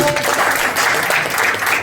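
A crowd at a lively devotional bhajan performance with dholki claps loudly and continuously, a dense steady wash of applause that fills the whole moment without pause.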